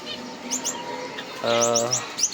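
Pet budgerigars and cockatiels chirp indoors in a quick run of high tweets and warbling calls, some overlapping, with a sustained whistled note near the end and no talking.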